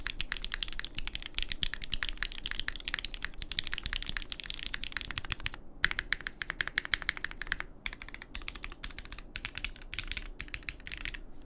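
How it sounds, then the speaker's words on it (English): Keyboard fitted with Black Sesame long-pole linear switches on an aluminum plate, typed on in fast, continuous bursts of close, crisp clacks with a few short pauses; no voices. "And when I put in the board, the black sesame switches actually sounded pretty great."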